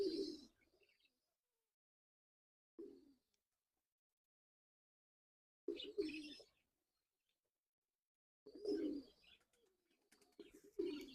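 A young golden pigeon coos indoors in short, separate low bursts with quiet gaps between them, close and fairly soft, with no other sound around.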